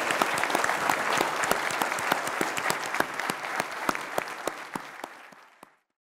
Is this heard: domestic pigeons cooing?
no